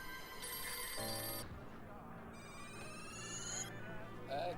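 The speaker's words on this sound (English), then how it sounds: "How can it be ringing? It's not even a real phone." A prop telephone, not a real connected phone, rings with bright electronic trilling bursts, loud and repeated over a background of music and faint voices.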